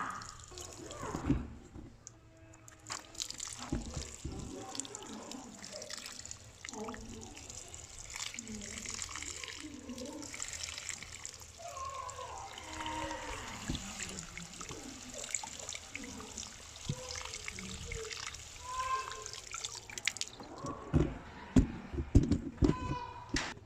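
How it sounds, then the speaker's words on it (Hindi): A sprinkler pours water over a potted plant, giving intermittent splashing and trickling close by while someone talks over it throughout. "इस तरह से आप पौधे को ऊपर पानी डालें"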